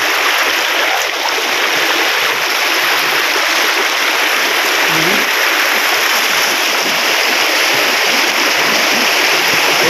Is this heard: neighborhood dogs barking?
no